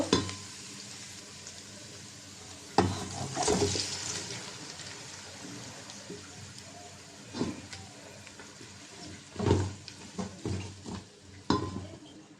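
Water is poured into a pan of spiced beef being cooked down, a rushing, bubbling splash over an ongoing sizzle, with stirring scrapes and pan knocks close by.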